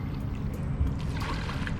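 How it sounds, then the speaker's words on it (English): River water flowing steadily during a family rafting trip in Ocho Rios, Jamaica, a broad continuous wash and trickle close by with no talk. "Beautiful river."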